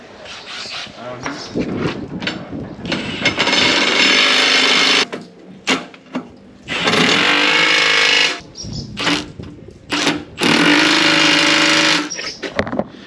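Bolts on a slurry agitator shaft are tightened during a bearing repair, with three loud, sustained mechanical bursts of a few seconds each, close by, and talk in the gaps between them.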